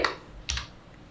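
Keys on a computer keyboard tap out a few quick strokes, two short clusters of close, crisp clicks with a quiet gap between.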